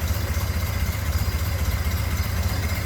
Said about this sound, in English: I want to open this hood so you can see that engine purr.